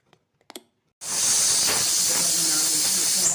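Steam hisses steadily and loudly from a pressure cooker on a stove after cooking bisibelabath with samba wheat rava, starting abruptly after a second of near silence broken by a few faint clicks.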